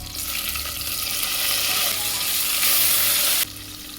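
Onions and tomatoes fry in a pot for a home-style biryani, giving a loud continuous sizzle that swells midway and then drops off sharply near the end.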